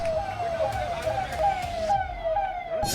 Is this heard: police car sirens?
yes